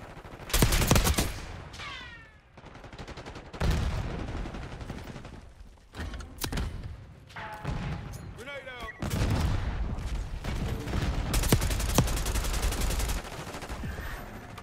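Rapid bursts of automatic gunfire and single shots ring out in an online multiplayer shooter match, loud and dense across the whole stretch, with intermittent explosive booms and a player talking over the action.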